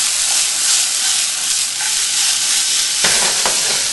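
Vegetable stir fry with chili peppers and stewed tomatoes cooking over high heat, a loud, dense, continuous hiss and sizzle with a couple of brief utensil knocks near the end.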